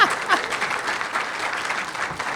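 Warm audience applause for a federal minister being introduced at a post-budget breakfast, a sustained, even patter of many hands at moderate volume, slightly distant, filling the short moment without speech.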